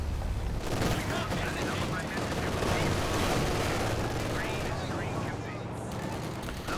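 Heavy machine gun team firing during a 2v2 battle in Company of Heroes 2, a dense, continuous rattle of gunfire and explosions filling the whole stretch, loud and close, with a voice talking over it.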